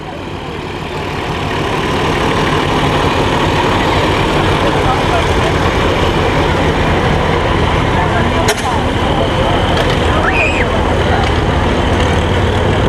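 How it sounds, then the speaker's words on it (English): A big Ford 9700 farm tractor engine runs steadily nearby, a continuous low rumbling drone that holds an even level throughout, with people talking over it. "That's a big Ford tractor."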